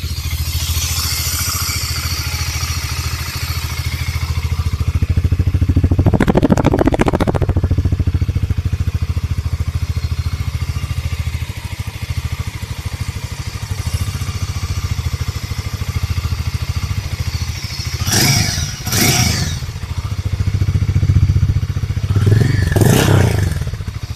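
A 2024 Hero motorcycle engine idling nearby, a steady low mechanical thrum that holds throughout, interrupted by a few short clattering thumps and scrapes.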